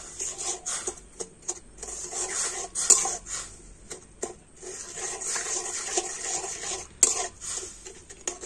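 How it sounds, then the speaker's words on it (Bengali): Jaggery is stirred into water in a metal pot, giving continuous rubbing, scraping and sloshing strokes with a few sharper knocks, fairly close and loud. "তো জলের সাথে গুড়টা ভালো করে মিশিয়ে নেব।"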